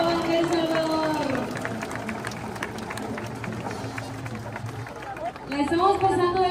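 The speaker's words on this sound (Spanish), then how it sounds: "¡Aplausos para Valdez Salvador!" Crowd applauding a dance in a public plaza, steady clapping and cheering heard under a loud announcer's voice over music, with a brief swell near the end.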